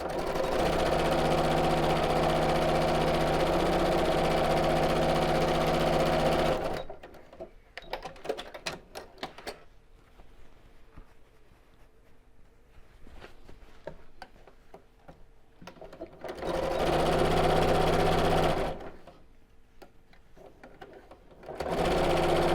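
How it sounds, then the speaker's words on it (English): A sewing machine runs in long, steady, loud bursts while stitching straight across the lining of a fabric tote bag, with quieter pauses of handling and light clicks between the runs of stitching. "sew straight across"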